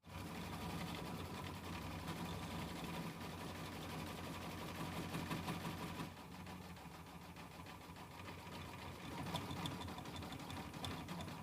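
A home sewing machine embroiders foliage on a small vase-block mini quilt, its needle running in a steady, fast mechanical buzz that continues throughout, close and loud, with a brief shift in tone partway through.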